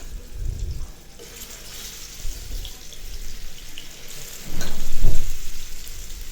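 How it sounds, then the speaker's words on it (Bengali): Thick pieces of fish fry slowly in hot oil in a pan, a constant broadband sizzle that surges louder in brief bursts, with no talk. "তেলটা গরম হয়ে গেছে এখন মাছটা দিয়ে দেবো আমি আর এটা ধীরে সুস্থ ভাজতে হবে"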